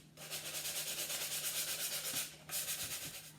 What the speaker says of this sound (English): Now I'm going to take a piece of fine grained sandpaper, just go lightly around the edges.